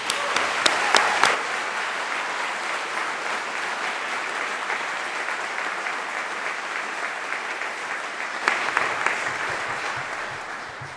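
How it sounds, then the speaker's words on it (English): A large audience applauds at a University of Reading winter graduation ceremony, a dense, steady wash of clapping lasting about eleven seconds with a few sharper claps at the start and another brief swell near the end. "So let's give them also a big round of applause."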